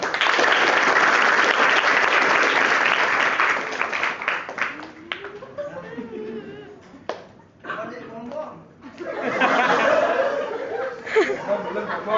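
A group applauds during a campus hypnosis session, loud dense clapping for about four seconds before it thins out into chatter, light laughter and talking, with a brief second swell of voices later.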